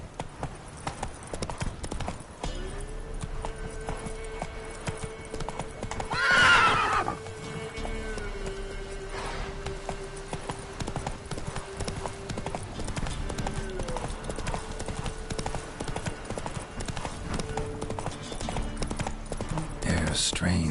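Horse hooves clip-clop in a steady walking rhythm throughout, with a brief whinny partway through, over low background sound and occasional voices.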